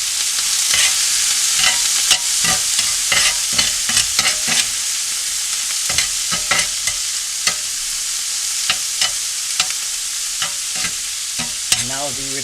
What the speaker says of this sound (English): Now the retention of the heat from the cast iron is absolutely fabulous. It gets a good sear on your meat.